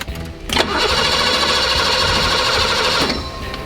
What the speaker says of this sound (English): we could finally get this car to crank over